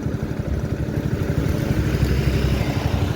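A motorcycle engine runs close by with a throbbing, slightly uneven low rumble that holds steady and loud throughout.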